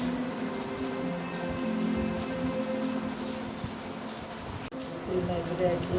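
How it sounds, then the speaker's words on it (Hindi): Heavy monsoon rain pours steadily in July, heard from indoors as a constant hiss and patter on surfaces. Someone talks over it in places. "ये हो रही है बारिश"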